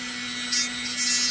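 A Mastercraft rotary tool with a cut-off wheel whines at a steady high pitch as it bites into plastic, and two short gritty bursts of cutting rise over the motor hum.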